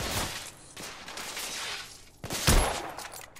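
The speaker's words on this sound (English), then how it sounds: "I'm taking heavy fire!" Heavy gunfire in The Order: 1886, dense overlapping shots and bursts with a loud impact near the end, filling the scene without voices.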